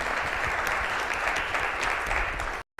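An audience at an evening student business pitch competition applauds the student teams with a dense, steady round of clapping that cuts off abruptly at the end.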